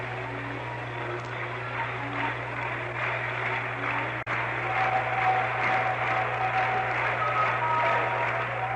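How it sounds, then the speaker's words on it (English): A baseball crowd at a 1971 World Series game between Pittsburgh and Baltimore claps steadily, a broad distant wash of applause over a constant low hum, with no clear pause. "Hard fans want another run as they begin to clap"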